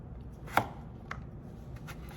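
A knife cuts celery root into bite-sized cubes on a board, giving one sharp chop, then a few lighter, irregular taps, close and clear with no talking.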